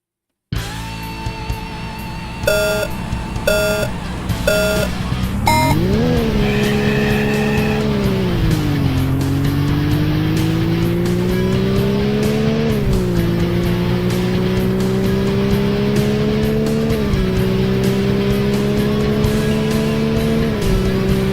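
A Porsche races around the Coastal track in The Need for Speed on the Sega Saturn, a few short menu beeps giving way to a loud engine that climbs and drops through repeated gear shifts and revs, alone without talk.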